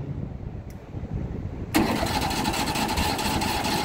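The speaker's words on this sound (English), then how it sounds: "we want to crank the engine." A sprayer's small engine cranks briefly, catches around the two-second mark and settles into a steady, fairly loud running drone.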